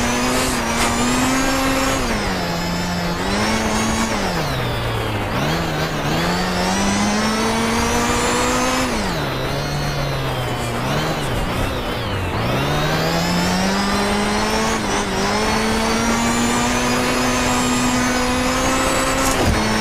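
A Group B Lancia Delta S4 rally car climbs the Transfagarasan mountain road, its engine roaring loud and close throughout, pitch rising through each gear and dipping at every shift and lift.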